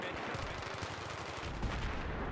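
Battlefield 3 gunfire during a friendly-fire moment, a dense burst of automatic rifle shots rattling rapidly at close range, loud and continuous with a heavier thump near the end.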